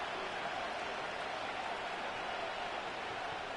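A stadium crowd in a Madden 25 football game cheers as a steady, even roar of distant noise, continuous and unbroken for a few seconds.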